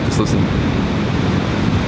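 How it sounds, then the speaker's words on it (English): Ocean waves crash over the rocks at Horse Head Rock in Australia, a loud, steady roar of surf and wash that fills the whole stretch without letting up. "The waves crashing over."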